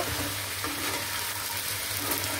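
Yardlong beans cook in a frying pan with a soft, even sizzle that stays steady and close throughout, with no distinct stirring strokes standing out and no voices.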